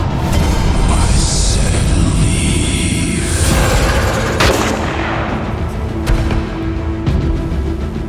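Loud, dense gunfire rattles continuously at close range as a superhero animation's action scene unfolds, with sharp cracks and heavy booms overlapping throughout and no breaks.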